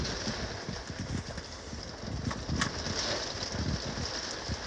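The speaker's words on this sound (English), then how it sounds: "Listen to that rain." Rain drums on the roof of a motorhome parked by a lake in Cumbria, a close, steady patter with scattered heavier drops and no talking.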